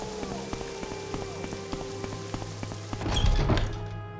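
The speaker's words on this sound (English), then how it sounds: "I'm glad it's still raining." Steady rain falls in the video game Morrowind, a dense, even patter with occasional soft thunks, growing a little louder and rougher near the end.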